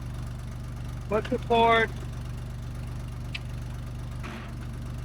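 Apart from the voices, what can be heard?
1970s bulldozer engine idling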